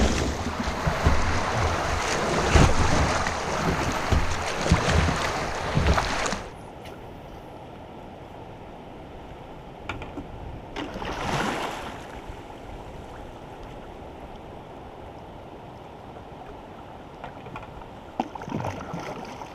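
A kayak paddled through shallow water over river shoals on a winter trip: loud rushing water and wind noise at first, then quieter stretches with intermittent paddle splashes and swishes close by.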